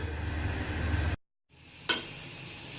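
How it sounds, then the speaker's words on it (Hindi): Onions frying in a pot of hot oil for goat trotters curry, an even sizzle that cuts out briefly, then returns with a sharp burst as more goes into the pot before settling back to a steady hiss. "अब मैं ये प्याज डाल दूंगी और प्याज को अच्छी तरह से हम ब्राउन कर लेंगे"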